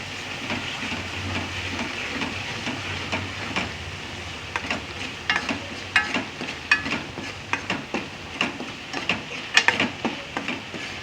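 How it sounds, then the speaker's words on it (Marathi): Masala with turmeric frying in oil for a village-style mutton rassa, a soft sizzle under repeated scraping and stirring strokes that grow louder and more frequent toward the end, with no voices. "हळद थोडीशी टाकली चांगला फ्राय करून घेते"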